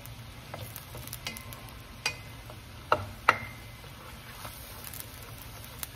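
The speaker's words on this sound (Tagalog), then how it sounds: "Para po maraming bawang. Tapos po ating babrown-brown." Garlic, a generous amount, browning in a pan for butter garlic Cajun seafood, giving a steady low sizzle with occasional stirring scrapes and a few sharp clicks, moderately close and without talk.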